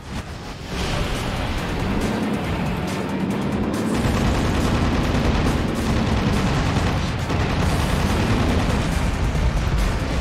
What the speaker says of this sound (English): Just gonna launch missiles then.